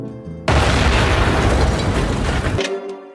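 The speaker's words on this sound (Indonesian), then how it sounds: "sesaat setelah ia menyalakan mobil itu tiba-tiba meledak hebat" A car explodes just after being started: a sudden, loud explosion bursts in, a roaring blast that rumbles on for about two seconds before cutting off abruptly.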